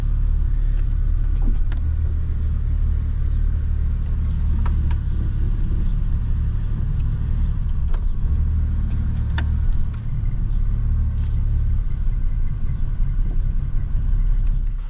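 A 1987 Jeep Cherokee runs and drives, its engine giving a steady, loud, close low rumble throughout with faint clicks and small mechanical ticks over the top, and no talk.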